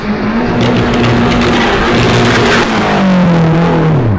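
A Nissan PS13 drift car at an Australian drift competition revs hard and loud, its engine note holding high and wavering before sliding downward near the end, heard close with no talk.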